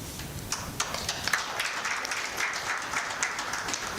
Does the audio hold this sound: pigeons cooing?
no